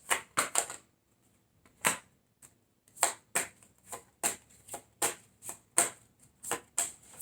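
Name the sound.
tarot cards being shuffled and drawn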